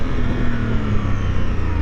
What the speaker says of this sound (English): twin engine from Honda, and you can feel the little vibrations